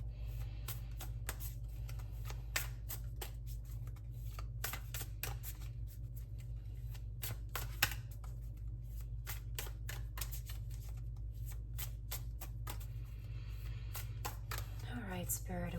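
Tarot cards are shuffled and drawn, making soft repeated taps and flicks at an uneven rhythm over a steady low hum, with a brief riffle near the end.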